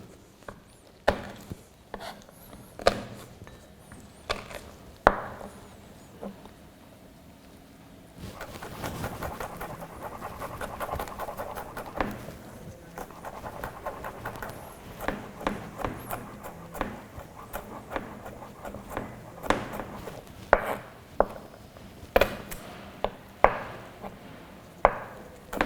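Garlic cloves being chopped with a knife on a cutting board, a long series of sharp close knocks, first spaced apart, then fast and rapid, then irregular again.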